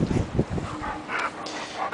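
A sweet, fetch-loving female dog gives soft whimpers and yips up close, heard in short irregular bursts over steady background noise.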